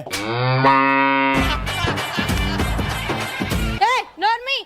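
A buffalo gives a long, loud, close moo, followed by people talking over each other and a couple of short vocal bursts.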